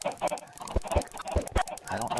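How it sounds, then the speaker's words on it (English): Video game chickens cluck in short, choppy bursts as thrown eggs hit them, with sharp little thumps mixed in, close and busy for a couple of seconds. "Too many chickens in an area making too much noise,"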